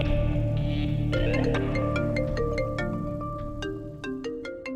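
A phone ringtone plays a bright, repeating melodic tone pattern, close and steady, over a low musical background score.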